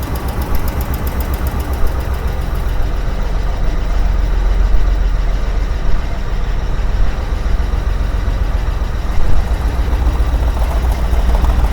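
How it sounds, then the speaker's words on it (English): A rough, rumbling 1961 Ford van engine, revived after sitting over 30 years, idles steadily and loudly, with a low throbbing vibration and a faint knocking texture throughout, no voices. "Can't believe it's idling."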